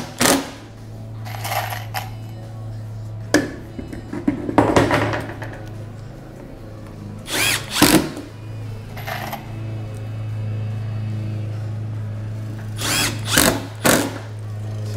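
Power drill driving 1 1/4 inch screws into a PVC seedling stand, with several short whirring bursts and sharp clacks between quieter pauses over a steady low hum, no talk.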